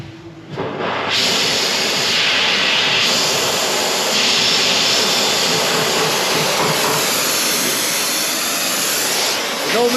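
A torch flame roars steadily and loudly up close, heating the upstream exhaust pipe on a 2016 Mini Cooper D, a continuous broadband hiss that starts abruptly and holds for the full length.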